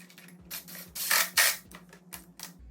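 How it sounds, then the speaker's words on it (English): Ratchet wrench tightening the triple tree clamp bolts on a 72V Razor SX500 supermoto fork install: bursts of close, rapid clicking ratchet strokes, a few louder sweeps in the middle, with no talking. "I'm gonna torque down all the triple tree bolts"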